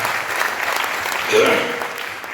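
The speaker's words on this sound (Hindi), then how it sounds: "एक बार जोरदार तालियां" Loud applause rises from the crowd at an all-India mushaira poetry gathering, a thick continuous wash of clapping lasting a couple of seconds, with a voice faintly mixed in.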